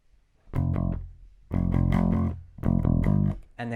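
A bass guitar plays a riff in grouped bursts of short repeated notes, loud and close, with brief pauses between phrases.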